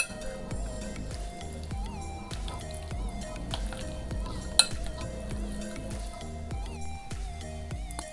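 A spoon stirring a creamy pasta salad of mayonnaise, lemon juice and tomato in a bowl: soft, rhythmic scraping and clicking strokes repeat steadily beneath background music, with one sharper knock midway.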